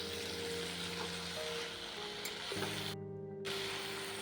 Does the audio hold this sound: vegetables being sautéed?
yes